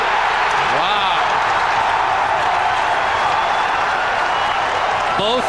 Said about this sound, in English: Both benches up to applaud the two combatants